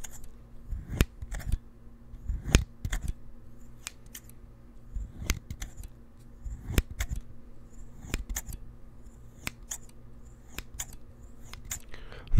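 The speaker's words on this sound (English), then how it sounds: "these kitchen scissors, but they sound really good" Kitchen scissors snip in sharp, crisp clicks at an uneven, slow pace, close and distinct over a steady low hum from an air vent in a quiet bedroom.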